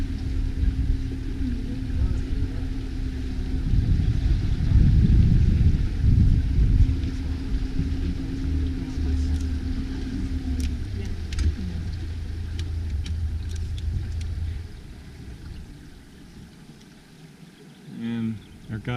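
A raft's outboard engine rumbles steadily on the Colorado River at Horseshoe Bend, then winds down and cuts out, leaving wind and water noise.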